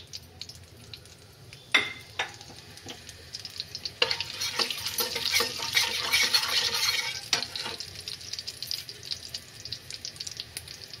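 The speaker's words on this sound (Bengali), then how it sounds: "এখন আমি এই তেলের মধ্যে সম্বারটা দিয়ে দেব।" Bengali five-spice and garam masala tempering hits hot oil, a steady crackling sizzle swelling loudly midway with a few sharp clatters, no voices.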